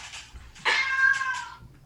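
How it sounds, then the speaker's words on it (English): A house cat meows once, loud and drawn out, sliding downward over about a second, close to the microphone, with a faint lead-in beforehand and no speech. "I have some cats here too."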